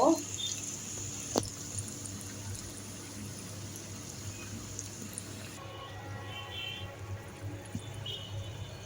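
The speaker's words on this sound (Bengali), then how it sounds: "এই জন্য আমি মিডিয়াম তাপে ভেজে নিব।" Potato sticks fry in hot oil over medium heat for a chicken-fry-style snack, giving a steady, soft sizzling hiss that runs evenly throughout at a moderate distance.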